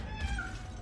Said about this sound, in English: He made a meow at that.